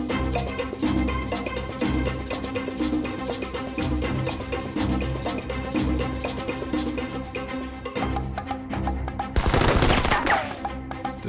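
Sustained machine gun fire in a tabletop wargame battle, rapid dense bursts of shots rattling continuously, with a harsher, louder burst near the end.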